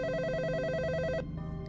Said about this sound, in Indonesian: telepon berdering.